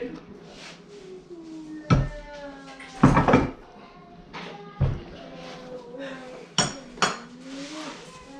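Sharp metallic knocks strike a Norton Commando 750 engine case to free the crankshaft, five or six separate blows with ringing tails, spaced irregularly and close by, over faint background noise.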